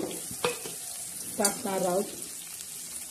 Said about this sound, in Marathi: छान अशी फोडणी देणार आहोत त्याला. हे बघा, असं छान असं हलवून घेणार आहोत.